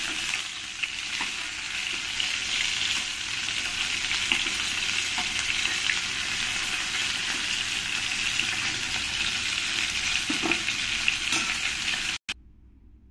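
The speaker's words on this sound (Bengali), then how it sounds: "এবার আমি এই কড়াইতে এই আলুগুলো ভালো করে ভেজে নেব।" Potatoes frying in oil in a wok, a dense, steady hiss and crackle of sizzling heard up close and continuous, with occasional faint stirring knocks, then an abrupt cut at the end.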